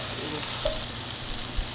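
Beef brisket fries over medium-high heat in a lightly oiled pan for a soybean paste stew, with a constant close sizzle and a few soft stirring scrapes, and nobody speaks.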